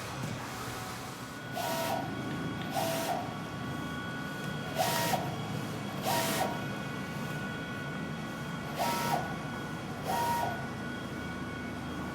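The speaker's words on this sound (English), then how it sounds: "We recently got a new printer, which is this one that's printing right here." A new printer running in a small printing business, a steady mechanical hum with regular louder passes repeating about every second or two, close and continuous with no talking.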